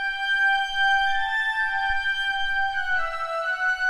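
Piccolo layered with a flute 8VA patch from Berlin Woodwinds carries a high, airy melody of long held notes that glide to new pitches, steady and clear with no voices.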